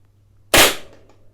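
A single sharp shot from an ASELKON MX10 spring airsoft rifle, a loud close crack with a short decaying tail, alone in a quiet setting.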